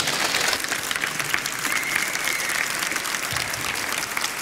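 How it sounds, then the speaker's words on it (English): Steady audience applause fills the room at the close of a talk on the history of phone phreaking, dense and even throughout with no one speaking. "Give him a warm applause."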